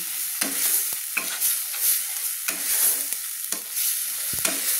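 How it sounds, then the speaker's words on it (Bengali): Turmeric-laced spice paste for Bengali bata fish curry sizzles steadily in a pan while a spatula scrapes through it in regular strokes, close and clear with no talking. "সুন্দর করে আমি মশলাটা কষিয়ে নিচ্ছি"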